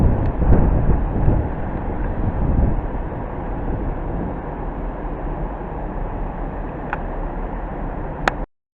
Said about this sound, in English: I can hear the noise of the turbo, which should be forming a service to Gatwick Airport